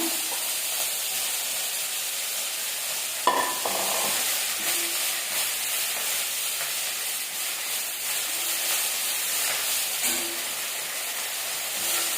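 Drumstick greens dropped into a hot tempering of seasoning and asafoetida give a steady, dense sizzle and hiss throughout, with a brief louder burst and stirring clatter as the leaves hit the pan.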